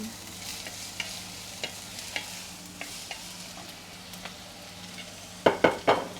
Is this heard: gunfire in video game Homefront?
no